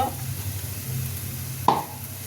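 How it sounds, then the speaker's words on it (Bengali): Grated coconut stirred into taro greens cooking with prawns in a pan. A low, soft sizzle runs throughout, with a single sharp utensil knock near the end. "এবার আমি দিয়ে দেবো নারকোল কুড়াটা, এই যে নারকোল দিয়ে দিলাম"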